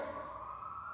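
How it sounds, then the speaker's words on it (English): A faint ambulance siren wails in the distance, its tone holding steady over low background rumble. "That is an ambulance sound you are hearing in the background"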